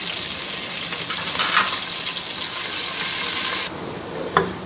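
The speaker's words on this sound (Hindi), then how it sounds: "अब मैं इसके अंदर लहसुन अदरक का पेस्ट ऐड कर दूँगी और इसे फ्राई करूँगी।" Garlic ginger paste frying with onions in a pan for a chicken liver masala dish, a continuous loud sizzle with stirring scrapes that cuts off abruptly near the end, leaving quieter crackling.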